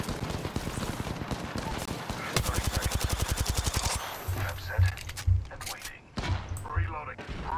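Rapid automatic gunfire in the Apex Legends video game, a fast regular burst of shots followed by scattered heavier bangs and thumps, with game voices calling out over the action.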